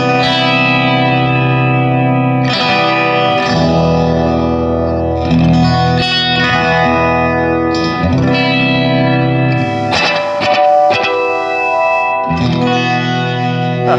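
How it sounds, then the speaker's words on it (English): Electric guitar through a Strymon Volante magnetic echo machine on an airy basic delay setting, strummed chords and picked phrases trailing off in repeating echoes and reverb wash, loud and close with no talking. "we've got this just beautiful, airy kind of, just basic delay sound right here."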